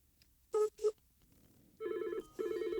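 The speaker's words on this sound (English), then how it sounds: "I can call that number, which should ring on this phone" A telephone rings with an incoming call routed through a local private PBX line with a USA number: two short bursts, then two longer warbling rings, close and clear.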